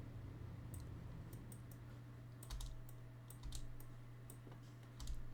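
A computer keyboard tapped in short bursts of clicks while code is deleted line by line, quiet and close against a steady low hum, with pauses between keystroke runs.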